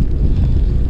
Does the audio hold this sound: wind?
yes